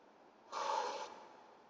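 A single deep inhale through the nose during a yoga class, heard up close as a soft, airy rush lasting about half a second before fading back into near silence.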